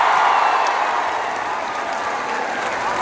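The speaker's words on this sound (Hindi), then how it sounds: "हमारी तालियां यहाँ से गांधी मैदान तक नहीं पहुँच रही है" Students applaud at a live coaching meet-up in a crowded hall, a dense, steady wash of clapping that stays loud and even for the whole three seconds.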